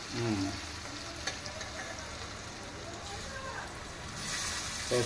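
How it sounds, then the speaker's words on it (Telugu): Milk poured into a simmering ridge gourd curry in a pan, heard as a steady close sizzle and bubbling with light stirring, under faint background voices. "ఇలా దగ్గరికి అయిపోయినప్పుడు పాలు పోసుకోవాలి"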